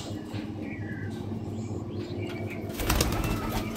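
A moulting male Kalanka pigeon, restless in the hand, flaps its wings in a burst of fluttering near the end over steady close background noise.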